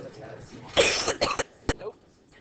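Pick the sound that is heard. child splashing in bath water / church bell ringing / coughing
coughing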